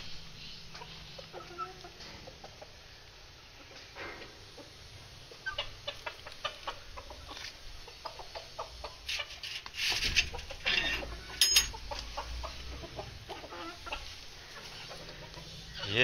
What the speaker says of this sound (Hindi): ये दो सफ़ेद वाली चकोरे हैं और ये मादियां हैं, और वो जो है बड़े वाला वो नर है।